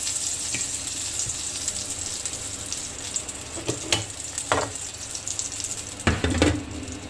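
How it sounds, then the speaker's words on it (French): Water added to a hot pan of veal juices: a steady loud sizzle and hiss with a few clinks and scrapes of a utensil against the pan, and a brief surge of bubbling near the end. "Là je viens ajouter un petit peu d'eau."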